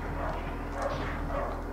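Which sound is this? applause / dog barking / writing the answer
dog barking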